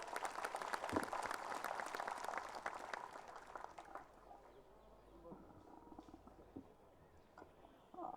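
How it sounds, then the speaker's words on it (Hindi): An audience at a political speech bursts into loud, dense clapping for about four seconds, then it thins into a quieter murmur. The whole scene sounds fairly faint. "एक बार जोरदार तालियां बजाकर"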